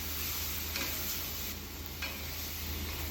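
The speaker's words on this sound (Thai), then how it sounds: "เปิดฝาหม้อแล้วก็ คนทุกอย่างคลุกเคล้าให้เข้ากันอีกรอบนึงค่ะ" Pork ribs and pickled bamboo shoots are stirred in a pot for a spicy red curry stir-fry, a steady sizzle with soft scraping strokes and occasional clinks, close and continuous without speech.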